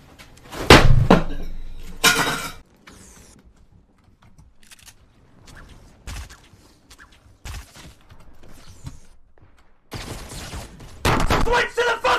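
Shotgun blasts in Fortnite: a few sharp, loud booms at the start and end with quieter gunfire between them, mixed with building clatter and shouting.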